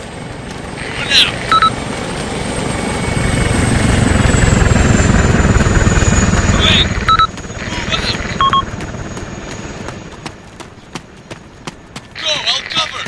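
Helicopter flying overhead in the military video game ARMA 2, a steady rotor thump that swells and fades beneath radio chatter and several short beeps, with people talking over it.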